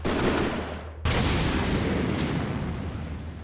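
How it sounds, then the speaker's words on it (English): Gunfire and explosions in a video game make a dense, loud burst of booming blasts, with a sharp new detonation about a second in, then sustained rumbling fire that slowly fades. "I hear gunshots and explosions"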